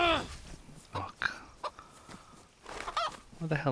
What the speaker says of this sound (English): these chickens got harder to catch